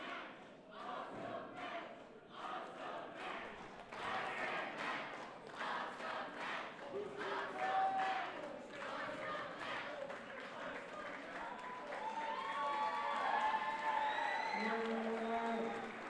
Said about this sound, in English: And the fans on their feet applauding both men.